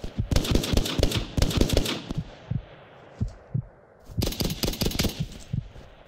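Gunfire in the WWII shooter game Hell Let Loose: rapid bursts of automatic fire in two clusters separated by a few scattered single shots, loud and close.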